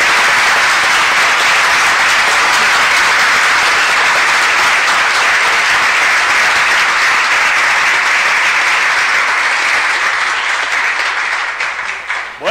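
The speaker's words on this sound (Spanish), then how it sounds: "Un aplauso al Festival Import de las Américas" Loud, dense applause from a large crowd at the Festival Import de las Américas car show and live event in Puerto Rico, a continuous roar of clapping filling the whole stretch before fading slightly at the very end.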